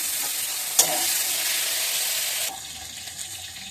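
A loud hiss of potatoes dropped into hot oil with fenugreek seeds and bay leaf, a sharp clatter as they land, then a steady bright sizzle that drops to a lower fry partway through.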